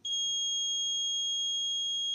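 A brachytherapy treatment system's audio alarm during a daily check gives a steady, loud high-pitched electronic tone, held without a break, with a fainter overtone above it and low hum underneath.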